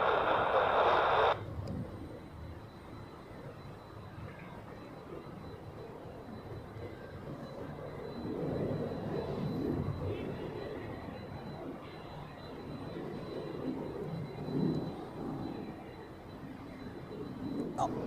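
A plane takes off at Zurich Airport bound for Dublin, its engine roar swelling and fading at a distance in a long, muffled rumble, while a brief radio-like tone opens the scene.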